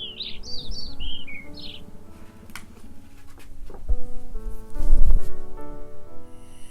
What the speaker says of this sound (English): Bird went to chit-chatter with the other birds